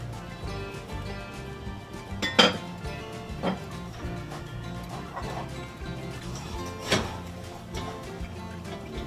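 Zucchini spaghetti with seasoned salt, garlic powder, onion powder and black pepper being tossed in a pan, with a few sharp utensil clinks against the pan and light scraping over a low kitchen background.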